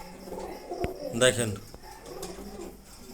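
Pigeons kept in cages at a breeding farm coo softly and close by, a low burbling call rising in the middle of the stretch, while someone talks over them.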